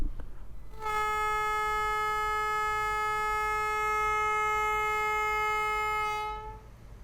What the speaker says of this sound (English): this has again been made out of a train horn